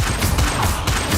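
A Bombarda spell explosion in Hogwarts Legacy, a dense, loud burst of crackling blast noise filling the whole short moment.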